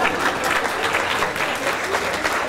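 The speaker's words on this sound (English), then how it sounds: "You can clap." Wedding guests at a reception applaud during a speech, producing loud, continuous clapping from a sizable crowd with faint voices mixed in.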